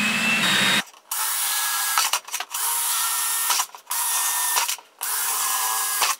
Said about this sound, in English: Going to continue drilling the other 5 out.